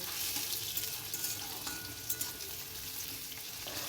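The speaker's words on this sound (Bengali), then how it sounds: "কড়াইতে আমি তেল গরম করে আলুগুলো ভেজে নেব" Potatoes sizzle and crackle steadily in hot oil in a wok, a constant frying hiss with a few sharper pops, no voices.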